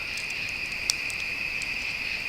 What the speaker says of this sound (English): Hear a couple out there, but lots of crickets.